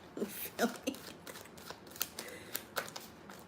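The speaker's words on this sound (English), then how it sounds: "Let me get a good shuffle on this, because this is two decks." Two decks of tarot cards are shuffled together in quick, irregular riffles and soft slaps, with crisp papery bursts fairly close and quiet.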